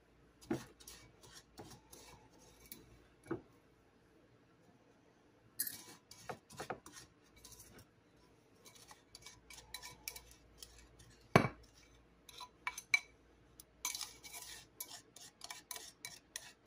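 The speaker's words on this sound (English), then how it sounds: "Now we're just going to spoon our sugar into this canister." Sugar spooned into a canister for homemade brown sugar: quiet scraping and scattered clinks of a spoon against the container, irregular and close, with soft rustling pauses between scoops.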